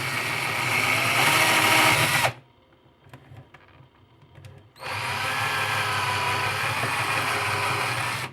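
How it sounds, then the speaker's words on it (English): Power drill with a 3/16 bit boring through the plastic back of a Nerf Sharpfire blaster, two long loud whirring runs separated by a few seconds of quiet handling clicks, very close. "right after I show you how to drill through the back here"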